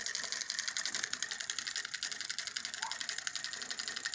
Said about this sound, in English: I'm using a crankshaft on the lid to rotate it.